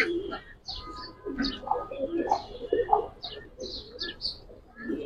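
Giribaz and coloured pigeons coo softly in a loft, with low repeated coos and scattered higher chirps overlapping closely throughout, and faint murmuring in the background.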